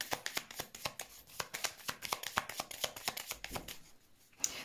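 Tarot cards shuffled and handled in a quick series of crisp riffling snaps and slaps, close and fairly quiet, continuing with no talk.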